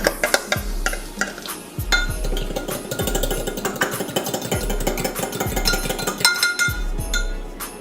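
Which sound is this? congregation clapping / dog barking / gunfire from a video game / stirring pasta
stirring pasta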